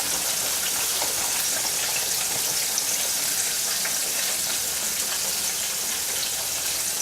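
A buttermilk-battered pork chop deep fries in hot grease, a dense, even hiss and crackle of bubbling oil, loud and close, steady throughout with no voices.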